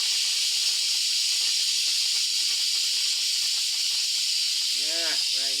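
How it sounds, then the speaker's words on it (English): Steam escaping from a large pot of Saturday soup with pumpkin, yams, chicken and cow skins, a steady loud hiss running throughout, with a voice briefly speaking near the end. "Let go some steam."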